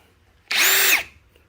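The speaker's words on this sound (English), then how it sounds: "Now I can go drill the next step with the O-bit, and I'm going to just do that by hand" A hand drill with a dull step bit bores an exhaust hole through an RV body in one short, loud whine that ramps up, holds for about half a second and cuts off.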